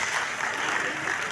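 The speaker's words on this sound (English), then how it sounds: "A round of applause for them." A crowd at a youth summit in an arena applauds, a continuous wash of clapping heard briefly at moderate level.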